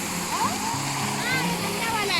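Splashing, rushing water from a waterfall and fountain fills the background as a steady broadband wash, while people talk over it throughout.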